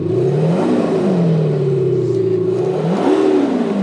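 BMW F10 sedan with a modified exhaust and active DPF, engine revved up and held at a high droning pitch, then dropping and climbing again in a second rev, loud and close.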